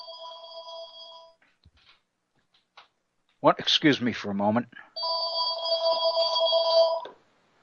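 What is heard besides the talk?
telephone ringing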